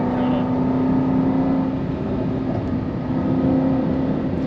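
A Jaguar XE SV Project 8 sports sedan's engine and exhaust drone steadily at close range, a constant throaty hum with a high whine running through it, loud and continuous without a break.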